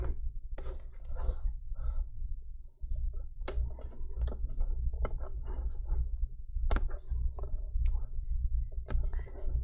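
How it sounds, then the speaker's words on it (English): Small plastic clicks and scrapes sound as a tiny connector clip is eased open on the 40-pin display connector inside an IdeaPad Miix 720-12IKB laptop, close and sparse with talk over them. "gently open up that little clip right here"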